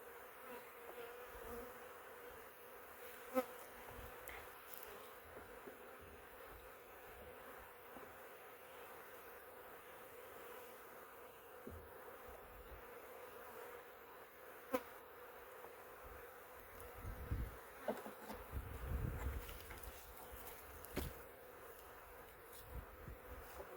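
A low, continuous buzzing of many honey bees around a hive during an inspection hums throughout, fairly faint and steady, with occasional clicks and soft knocks nearby.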